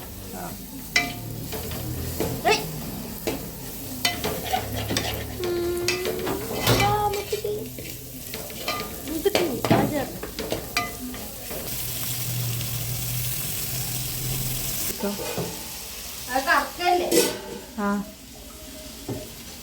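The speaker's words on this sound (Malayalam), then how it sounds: "തക്കാളി പച്ചമുളക് വെളുത്തുള്ളി ഇഞ്ചി പിന്നെ വലിയ ഉള്ളി അതൊക്കെ നന്നായിട്ട് ഞാൻ എണ്ണയിലൊക്കെ ഇട്ട് വഴറ്റി" Tomato, green chilli, garlic, ginger and onion sauté in oil in a pan, with a steady sizzle broken by repeated scraping and clinking of a utensil against cookware, heard close up.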